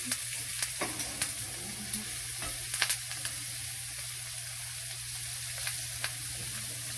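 A ribeye steak sizzling in a pan with butter and thyme while being basted with a spoon: a constant frying hiss broken by light scraping and clinking taps.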